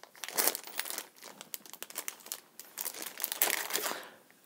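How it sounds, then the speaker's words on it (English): A small plastic bag from a Warhammer Blitz Bowl board game box being handled, giving continuous close crinkling and crackling with bursts of louder rustles, no voices. "We have the little plastic bag."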